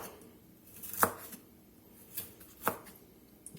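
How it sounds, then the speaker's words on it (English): Three sharp knife chops through broccoli stems on a cutting board, spaced irregularly, with a quieter tap near the end; no talking. "We're just going to chop these stems down here a little bit."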